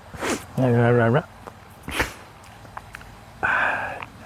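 A person sneezing: several short, breathy bursts spaced out over a few seconds, close to the microphone, with vocal sounds between them.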